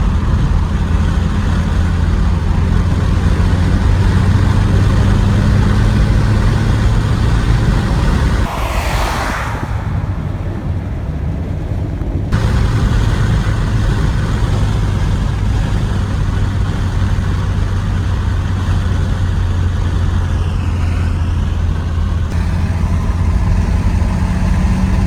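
A 38-year-old car with about 94,000 miles idling after a road trip home to Kansas City, hood open, giving a steady low engine drone with a brief rushing whoosh partway through.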